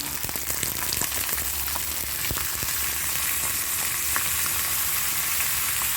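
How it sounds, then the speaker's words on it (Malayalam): Green pumpkin sautés in oil with popped mustard seeds for a South Indian dish, a steady close sizzle broken by occasional sharp crackles and stirring clicks. "പച്ച മത്തങ്കാളി ഇതിലേക്ക് ഇട്ടിട്ട് ഒന്ന് വഴറ്റി കൊടുക്കണം"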